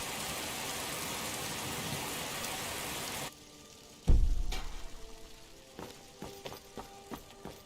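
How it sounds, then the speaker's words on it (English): Steady hissing rain in Skyrim Special Edition fills the first few seconds, then cuts off abruptly, followed by a deep thud and scattered light clicks and taps. "And of course it's raining."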